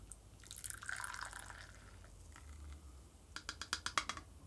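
An espresso shot from a mystery roast is poured from a small cup, a faint trickle of liquid followed by a quick run of soft drips and splashes, close and quiet.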